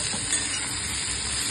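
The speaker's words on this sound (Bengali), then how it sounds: "হাতা দিয়ে আমাকে এখন নাড়তে হচ্ছে।" Sizzling food stirred in a pan with a ladle, heard as a dense, steady close hiss and crackle with no breaks and no voices.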